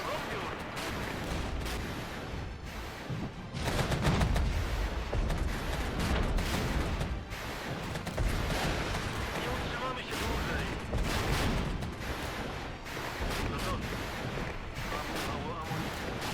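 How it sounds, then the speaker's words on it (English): Rocket artillery strike in the game Regiments, a dense rumbling barrage of blasts and crackling impacts sustained loudly throughout, with voices talking over it. "That's looking like a lovely spot for a rocket artillery strike."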